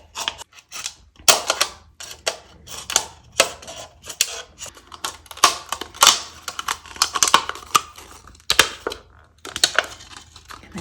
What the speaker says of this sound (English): So my plan is to use a craft knife to get in there.